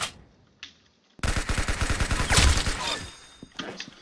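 Rapid shotgun gunfire in an Arsenal 1v1 video game match, a dense burst of loud, sharp shots after a short quiet gap, with scattered softer shots trailing off.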